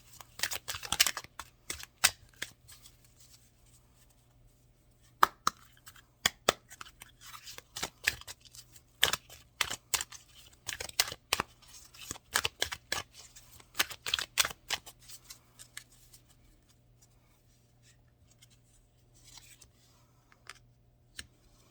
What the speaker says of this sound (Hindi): दो कार्ड्स मैं खाली निकालूंगी।